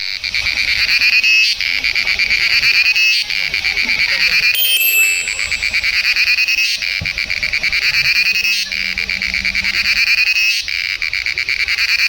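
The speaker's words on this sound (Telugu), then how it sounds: "ఇక్కడ ఒక చిన్న పురుగు ఉంది" A small insect in Bandipur National Park gives a loud, continuous, frog-like calling, a steady pulsing buzz that carries throughout, with brief breaks and a faint low tone partway through.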